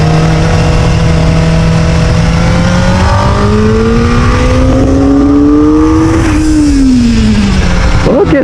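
A Kawasaki ZX-4RR motorcycle engine revs loud and close, its pitch climbing steadily through the gears before dropping sharply near the end.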